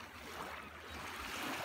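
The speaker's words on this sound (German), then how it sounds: "Und oben kommt Wasser rausgeschwappt." Water sloshes and bubbles out of a buoy floating in the Baltic Sea off Usedom, a faint, continuous watery wash with no voices.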